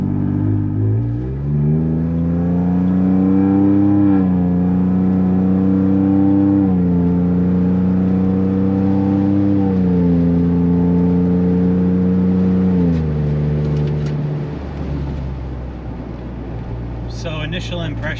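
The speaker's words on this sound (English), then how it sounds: "So now we are doing the in-car for the Flowmaster Outlaw axleback for the 21" Inside a 2021 Ford Bronco with a Flowmaster Outlaw axle-back exhaust, the engine pulls through moderate acceleration in strong, rising harmonic sweeps that drop at each gear change, then settles to a lower drone.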